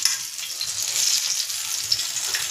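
Potato masala vadi (aalu vadi) shallow-frying in oil on a hot tava, giving a steady, close, bright sizzling hiss with soft crackle throughout and no voices.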